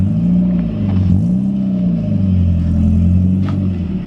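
Toyota AE86 with a BEAMS engine swap idling low, a steady deep rumbling exhaust burble with slight wavering in pitch, close and loud with no talk over it.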